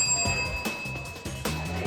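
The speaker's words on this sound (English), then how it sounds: "When the time is up, the bell will ring" A bell rings to signal that time is up during a speed-dating round, sounding as a few bright, clear rings at a moderate level.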